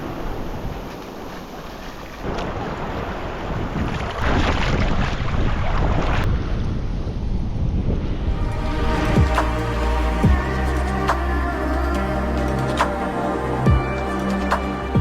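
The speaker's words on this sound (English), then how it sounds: "we board our boat and set off to enjoy another incredible day out on the water" Island-hopping boat ride on the sea around El Nido: a constant engine drone and water rush with heavy wind buffeting the microphone, the motor's steady hum growing clearer and more tonal partway through.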